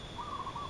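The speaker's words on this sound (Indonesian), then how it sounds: "itu suara burung perkututnya" A zebra dove (perkutut) gives a soft, hollow, rolling coo, faint and somewhat distant over a quiet background hiss.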